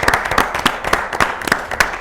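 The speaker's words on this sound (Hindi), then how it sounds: "वेलकम और जोरदार तालियों में कोई कंजूसी नहीं" Rapid clapping from a quiz show studio audience, a brisk burst of applause with sharp regular hand claps close by, lasting a couple of seconds.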